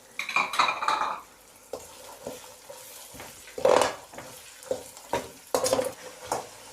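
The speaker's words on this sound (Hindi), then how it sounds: "अब इसके अंदर हम मटर ऐड करेंगे।" Green peas tumble into a hot pot for mater pulao and are stirred, close metallic clinks and scrapes of a spoon against the pan over a soft sizzle, in irregular bursts.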